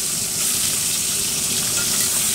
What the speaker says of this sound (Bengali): ট্যাংরা মাছগুলো ভাজা হয়ে গেছে